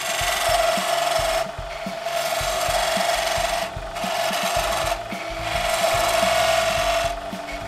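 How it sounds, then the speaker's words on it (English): Chisel peeling wood on a lathe spinning at high speed while a small part is turned for a cake stand, giving a loud, steady rasping scrape in three long passes separated by brief pauses. "using the lathe at that higher speed, and I'll use the tool purely as a peeling tool"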